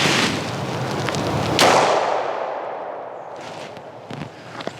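A single loud gunshot fired at a $300 bulletproof vest from about 20 feet, starting with a .38, cracks sharply near the start of the clip and its echo decays over a few seconds outdoors, with faint clicks afterward.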